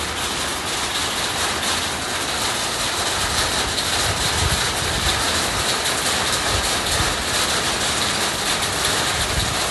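Steady rain falls at the Royal Phuket Marina docks among moored yachts, a constant close hiss of drops with a low rumbling undertone and no pauses.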